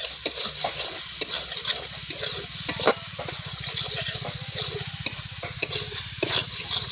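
Egg curry masala frying in a pan, a continuous close sizzle with repeated scraping and stirring strokes of a spatula against the metal throughout.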